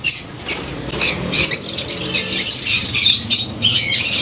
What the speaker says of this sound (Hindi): ये खूबसूरत रंग बिरंगे तोते